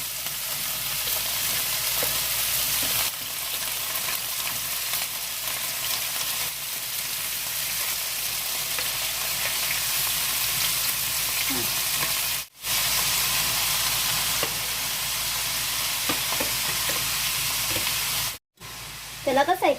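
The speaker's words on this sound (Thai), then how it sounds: "ใส่ทุกอย่างลงไปพร้อมกันหมดเลยนะคะ ผัดง่ายๆค่ะ" Mixed vegetables for spring roll filling stir-fry together in hot oil, giving a continuous dense sizzle with occasional stirring scrapes and two brief dropouts, close and fairly loud throughout.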